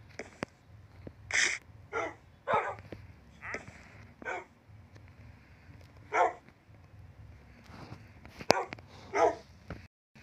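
Within a video game dog add-on, a dog gives a scattered series of short barks and yips mixed with whimpers, about nine bursts over ten seconds at moderate volume, separated by quiet background.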